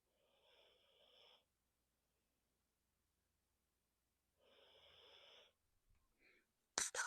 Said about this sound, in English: Happiness is painting while your dog snores like he has a job.